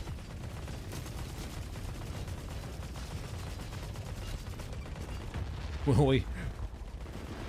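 Automated turrets firing in the video game The Forever Winter, a steady rattle of rapid bursts throughout with a louder whooshing blast near the end, while a voice speaks briefly.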